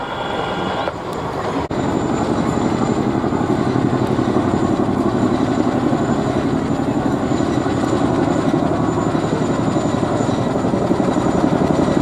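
Helicopter passing low over a beachfront, its rotor blade flap a loud continuous chopping thrum close overhead, rising as the aircraft approaches and holding strongly throughout.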